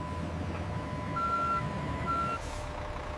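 A truck in a factory yard backs up, its reversing alarm giving a few steady high beeps over a low idling engine rumble, moderately close, with no speech.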